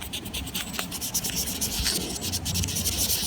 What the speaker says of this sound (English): when you wet sand like this, it tends to keep the dust down